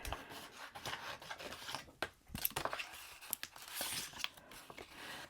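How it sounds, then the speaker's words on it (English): Cricut transfer tape peels off its backing in a run of quiet crackling rips and rustles, close and faint, with small sharp ticks scattered through. "Okay, just get this transfer tape off."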